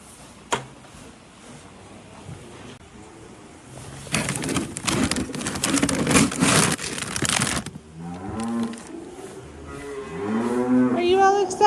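Dairy cows moo at morning feeding time in a barn, with low drawn-out calls building toward the end. A clatter and steady barn noise run through the middle, along with soft cooing birds.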